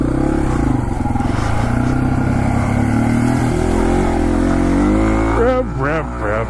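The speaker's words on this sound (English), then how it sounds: "Rev, that's rev." A slow motorcycle's engine revs loud and close, a steady throaty drone that swells through the pitch range before easing off, with brief voices near the end.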